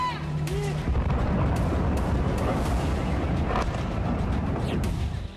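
Explosions in Kyiv are captured as news footage: a rumbling, noisy barrage with scattered sharp booms and bangs that stays loud throughout, with possible voices beneath.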